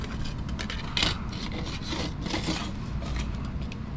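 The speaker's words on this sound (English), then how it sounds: "all I'm doing is running a screwdriver against the plastic right down the back side there" A screwdriver tip rasps along the back side of a plastic part, giving repeated gritty scraping strokes, close and steady, with a few sharper bursts.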